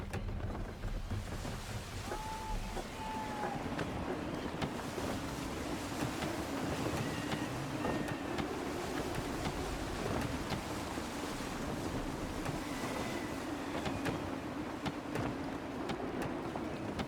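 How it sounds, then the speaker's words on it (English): Gusty wind roars steadily around a sailing ship at sea in Assassin's Creed III, mixed with waves washing and buffeting rumble across the whole stretch, no voices over it. "Gusty winds can be difficult to manage."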